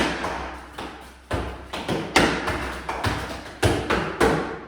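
Hard-shoe Irish dance steps on a floor, with bangs, skates and trebles landing as a series of sharp, close thuds and taps in an uneven rhythm, some rapid clusters, with no talk.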